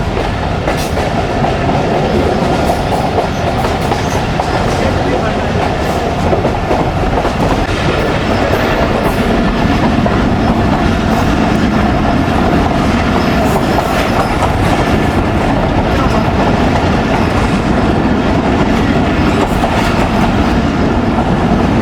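Millat Express passenger train rolls across a rail bridge, a loud, steady rumble with rhythmic clickety-clack of wheels over rail joints carrying on throughout without any voices.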